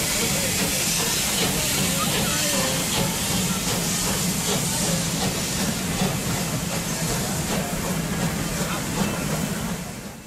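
Steam locomotive 23 023 arriving with a passenger train at Beekbergen during a steam festival, a loud continuous hiss of steam over rumbling wheels and rail noise, close by and fading slightly at the end.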